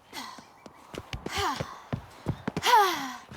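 Heavy, ragged breathing from Ciri running in The Witcher 3: Wild Hunt, a string of short sharp gasps and drawn-out sighing exhales in an irregular rhythm, close and fairly loud over faint footsteps.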